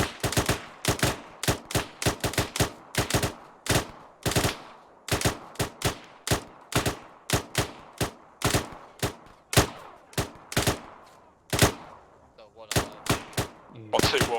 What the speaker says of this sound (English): lads, prepare for 30 seconds rapid fire